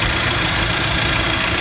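Idling engine of a 2011 Hyundai Sonata with the A/C compressor running, a loud, dense, constant rumble heard up close in the engine bay with no talk.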